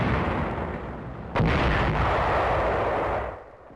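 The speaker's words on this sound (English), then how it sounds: "Tank of the 2nd Armored Division opens fire." A World War II tank of the 2nd Armored Division fires its main gun, a single sharp blast cutting through a loud, rumbling wash of battlefield noise that fades out afterward.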